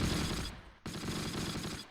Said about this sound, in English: I hear cannon rounds